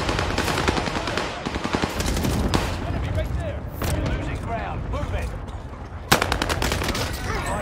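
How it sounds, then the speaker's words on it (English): Gunfire in Call of Duty Warzone on Rebirth Island: rapid automatic bursts and scattered single shots from several weapons, fairly close and loud, with a sharp crack near the end, while players talk excitedly over it. "What the fuck is that shooting, bro?"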